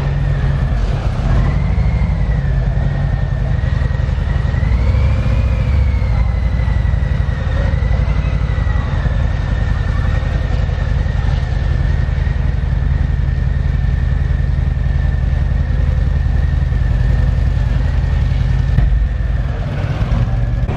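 A motorcycle engine running with a loud, steady low rumble close by, accompanied by a faint whine that rises and falls slightly, continuous throughout with no talking.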